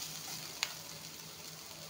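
Oats frying in a pan over very low heat give a faint, even sizzle, with a single small click partway through and no voices.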